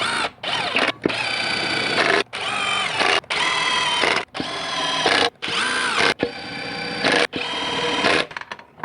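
A power drill fitted with a brand new bit runs down transmission bolts in repeated bursts of whirring, each lasting about a second with brief pauses between, loud and close.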